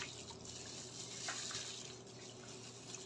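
Sliced pork tocino being stirred in a Coke marinade, a steady wet sloshing and liquid swirl that stays close and fairly quiet throughout, with no voices.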